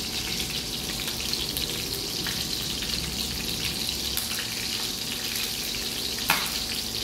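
Fish frying in a pan in a small kitchen gives a steady, close crackling sizzle that runs unbroken throughout, with faint splatter pops and no voices.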